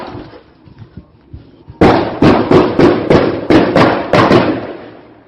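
Sharp gunfire and flashbang detonations ring out during an armed police standoff in Tauranga: a faint dull thud, then a loud bang followed by a rapid string of about eight more loud, sharp reports with short decays.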